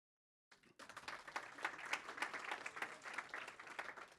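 An audience at a neighbourhood coworking event applauds a speaker, a rising burst of many hands clapping that starts abruptly after silence and holds as a lively, fairly distant patter.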